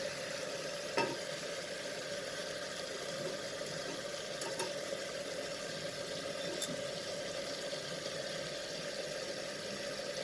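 Chicken with moong dal sautéing in a pan, a steady low sizzle and frying hiss running throughout with occasional faint stirring clicks, fairly quiet and close.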